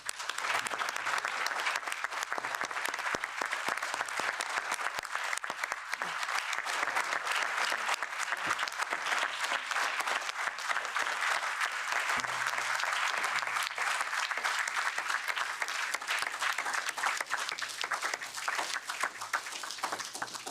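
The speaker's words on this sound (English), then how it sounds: "can we please give a round of applause to the people that have traveled so far to be here today?" Sustained audience applause for attendees who travelled to an event at the European Parliament, steady dense clapping lasting about twenty seconds, heard from a moderate distance.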